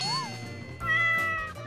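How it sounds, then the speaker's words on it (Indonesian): A cat meows once, close and clear, over a steady low hum of a moving pickup truck. "Eh kucing."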